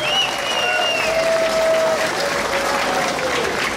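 A crowd at a December calenda festival in Tlahuitoltepec gives loud, steady applause for a couple being introduced, a dense wash of clapping with faint voices and a whistle-like tone threading through.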